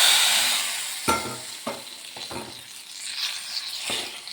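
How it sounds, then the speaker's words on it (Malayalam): Spices tempering for sambar sizzle steadily in hot oil, with a bright frying hiss that fades gradually and a few sharp clinks and scrapes of stirring up close. "ഇപ്പോൾ നമുക്ക് താളിക്കാം കേട്ടോ."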